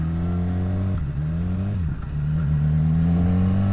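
BMW S1000R motorcycle engine on throttle, a loud close steady drone that dips briefly around a gear change, then climbs again into sustained revving, no speech.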